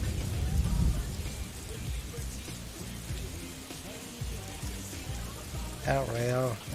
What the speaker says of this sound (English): rainy days